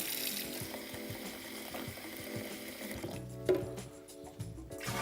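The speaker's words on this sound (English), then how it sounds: "So that's just cold water you put in there?" Cold water runs steadily into a 10-litre BrewKeg for a brewing session, a continuous pouring and filling hiss with a slight shift in tone near the end, no talk over it.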